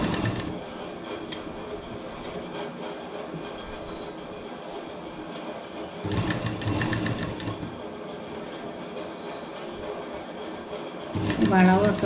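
A sewing machine stitching the folded neckline hem of a simple petticoat, running in steady rapid bursts with brief pauses, while someone talks over it.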